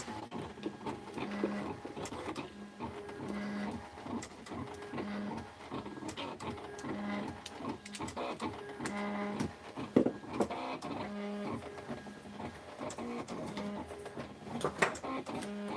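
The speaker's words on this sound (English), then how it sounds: "we're cutting stickers out" A sticker-cutting machine working steadily at close range, giving a continuous mechanical whir with repeated rhythmic motor pulses and small clicks, no voices present.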